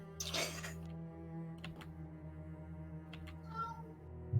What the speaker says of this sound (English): Kitty in the background.